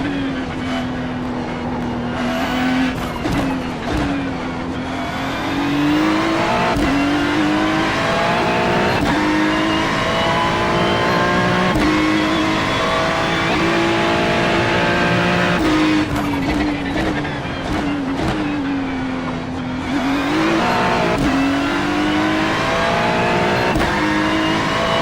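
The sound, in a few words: Porsche race car driving on a race circuit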